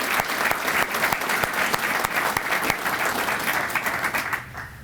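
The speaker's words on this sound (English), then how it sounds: "Please join me in a well-deserved round of applause for these family members." Applause from an audience at a US Army retirement ceremony at Fort Riley honors family members, with a sustained crowd wash punctuated by sharp individual claps close by, tapering slightly near the end.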